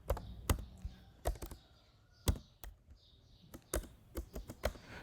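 Irregular clicks and taps of typing on a computer keyboard while writing HTML code, quiet and close, in short bursts with brief pauses.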